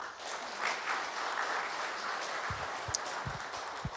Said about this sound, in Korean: 박수 한번 치고 가겠습니다